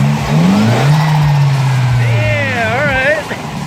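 A car engine revs at Circuit of the Americas in Austin, rising and falling near the microphone while a voice talks over it and a higher whining tone sweeps in toward the end.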